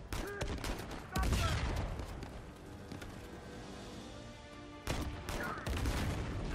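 Gunshots during a firefight in the video game Uncharted 4, a few sharp loud cracks amid sustained background combat noise and music, with a voice speaking briefly.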